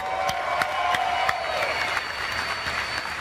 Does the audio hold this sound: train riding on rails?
no